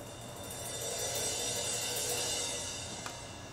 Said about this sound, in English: the rising cymbal sounds like this